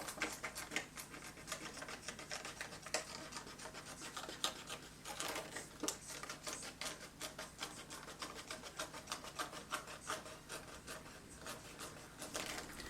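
Scissors cut through paper card for a wreath craft, faint close rasping snips and rubbing scrapes in an uneven rhythm, quiet and alone.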